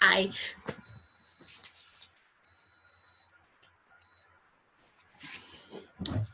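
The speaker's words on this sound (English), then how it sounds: "It's my alarm that was going out." A faint, high electronic beeping sounds in a few separate tones, partly under a voice speaking nearby.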